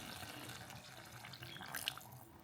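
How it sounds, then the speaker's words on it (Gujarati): Water is poured into a brinjal and potato curry in a home kitchen, a faint, steady trickle and splash heard alone at low volume. "તો મેં થોડુંક પાણી નાખી દઉં"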